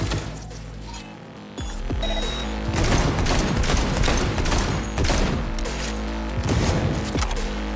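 Heavy gunfire in Cyberpunk 2077 pounds over a dense bed of game music and effects, with loud repeated shots and booms arriving in clustered bursts throughout.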